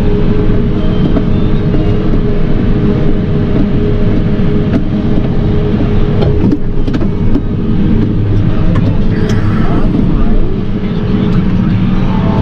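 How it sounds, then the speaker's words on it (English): A large articulated farm tractor engine drones loudly and steadily nearby, a constant low rumbling hum with little change across the whole stretch. "Articulated tractor."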